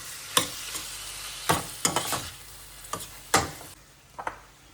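Chicken frying in a pan with onion, garlic and ginger for Indo-Chinese chicken with mixed vegetables, heard as a soft continuous sizzle broken by several sharp scraping stirs of a spatula, close up and without talk.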